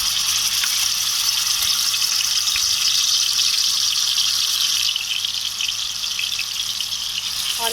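Hot oil sizzles steadily in a pan, ready to take onion paste for a mutton curry, a loud, even, hissing fry that runs the whole time and eases off slightly toward the end.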